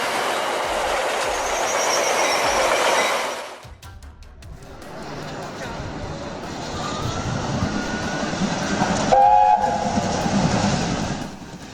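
A Metra Express train approaches and rushes past a crossing, a loud, close roar of wheels with rhythmic clatter, a sharp cut partway, then continued rumble and a brief whistle-like squeal near the end.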